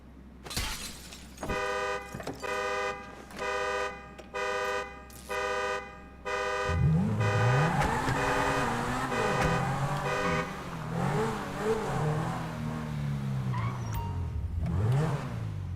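A supercar in GTA 5 Online, with its engine revving and climbing in pitch up close. Before it come a run of repeated car-horn toots and a glass shatter, and the loud engine then sweeps up and down repeatedly.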